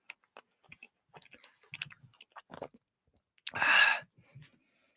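Soft, wet chewing of Fat Gum chewy candy, close and quiet, with scattered small clicks and one louder burst of mouth noise near the end.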